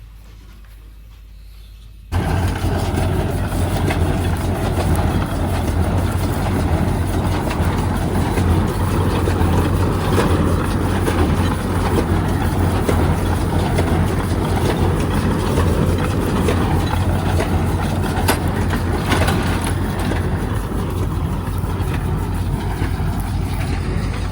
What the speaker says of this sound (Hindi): ये वाली मशीनें ये चलती भी इजी है, ट्रैक्टर से चल जाती है